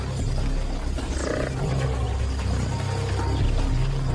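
Lions roar during a fight with a herd of African buffalo, deep, rough, continuous growling and roaring close by, layered with rumbling low noise and scuffling throughout.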